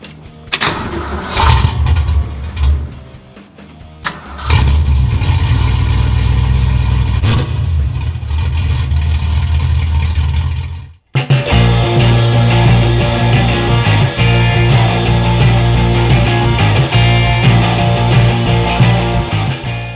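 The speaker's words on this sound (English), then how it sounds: "A lot of you guys have been asking me to do a cold start" A 1960 Ford Starliner with a built 289 V8 cold-starts loudly up close: cranking and catching, uneven revs with a dip, then a brief cut before the engine settles into a strong, steady, rumbling idle.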